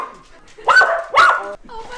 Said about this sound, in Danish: Det er ikke en lidt voldsom hund, i hvert fald.